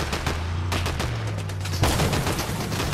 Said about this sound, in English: he just shot my tire out